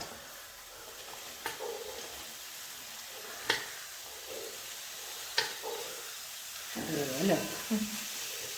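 Onions go into hot oil for biryani, a soft crackling sizzle with sharp stirring knocks, swelling to a louder hiss near the end.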